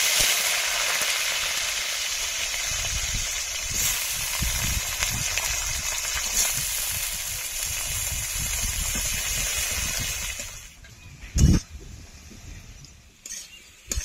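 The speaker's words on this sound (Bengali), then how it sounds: "আলুটা ভাজতে ভাজতে যখন প্রায় সেদ্ধ হয়ে আসবে" Potatoes fry in a pan with a steady close sizzle and crackle that fades toward the end, followed by a sudden clatter and quieter stirring.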